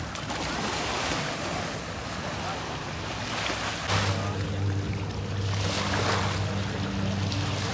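Sea waves wash along Dubai beach with steady surf and wind buffeting the microphone, a low engine-like drone joining midway; no speech.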